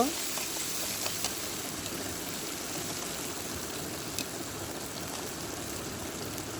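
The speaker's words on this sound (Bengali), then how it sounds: "এবার দিয়ে দিব চিংড়ি মাছ কিছুক্ষণ কষিয়ে নেব" Shrimp sautéing in a pan while cooking taro stolons with coconut, giving a steady, moderately loud sizzle and crackle that runs evenly throughout with no voices.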